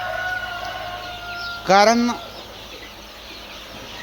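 Black Australorp chicks give a single short, bright call lasting under half a second, set against a steady low background hum while a person talks nearby.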